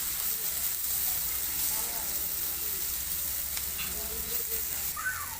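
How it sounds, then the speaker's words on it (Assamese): Water poured into a hot pan of frying masala for egg Maggi noodles, giving a broad, constant hiss and sizzle with faint stirring clinks, close and steady. "এতিয়া মই ইয়াত পানী ঢালি দিম।"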